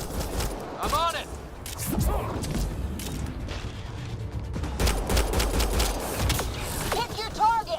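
Gunfire in the video game Mass Effect Andromeda, rattling automatic bursts and mechanical weapon clatter with occasional heavier thuds, loud and continuous beneath shouted in-game dialogue.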